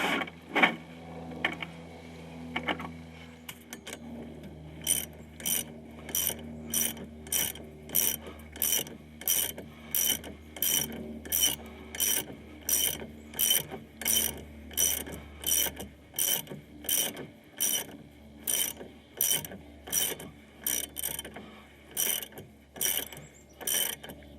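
Ratchet wrench tightening the front shock absorber mounts on a 2002 Ford Ranger Edge pickup, a rapid run of sharp metallic clicks repeating in steady bursts, close and clear with no talking.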